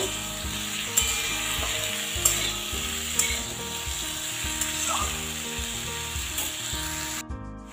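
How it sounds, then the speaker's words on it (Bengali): Chickpeas are stirred into pumpkin pieces frying in a pan, with a steady close sizzle under repeated scraping strokes of a wooden spoon and occasional sharper knocks against the pan. No one speaks. "এবার আমি এর মধ্যে ছোলাটা মিশিয়ে দেব। ভালো করে একটু কষিয়ে নেব।"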